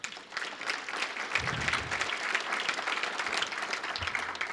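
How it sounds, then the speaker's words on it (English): An audience at a Rotary talk on RYLA and Youth Exchange breaks into steady, dense applause that holds for several seconds, many hands clapping at once across a large room. "Give a round of applause for that"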